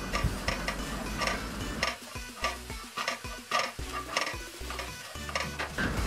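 Grated coconut being stirred into a hot, sizzling pan with turmeric and coriander powder, a steady frying hiss under repeated close scraping strokes of a spoon.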